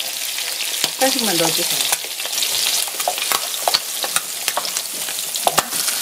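Abalone stir-fried in a pan, seasoned with a pinch of salt, sizzles steadily with scattered sharp clicks and scrapes of a utensil, while someone talks briefly over it near the start.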